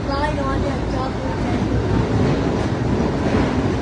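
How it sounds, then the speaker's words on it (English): A double-decker high-speed train rushes past nearby with a loud, continuous roar and rattling rail noise, with voices faintly audible underneath. "Another high-speed train, that's right."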